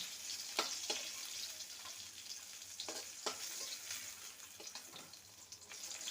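Fish pieces fry in mustard oil in a pan, a continuous faint hiss and sizzle with occasional soft scraping stirs and light clinks, and no one talking.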